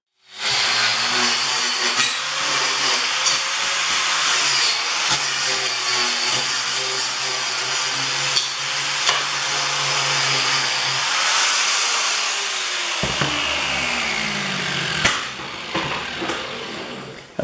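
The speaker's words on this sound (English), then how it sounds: "We're just going to get the grinder out and clean up those sharp edges" An angle grinder runs steadily, smoothing the sharp cut edges of an aluminum backing plate for an outboard motor bracket, a loud continuous whine lasting most of the clip before winding down near the end.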